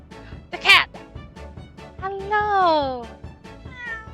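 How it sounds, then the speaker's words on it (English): A cat meows loudly and close once, a short bright call, then later gives a longer drawn-out meow, with a person talking and reacting around it during a video game stream. "The cat!"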